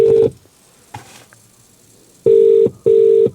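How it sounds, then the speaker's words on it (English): Ringback tones from a phone call play through a car stereo over a Bluetooth link in a classic Fiat 500, giving a burst, a gap with faint background noise, then two loud, evenly spaced tones close by. "I'm calling the Chinese takeaway up the road."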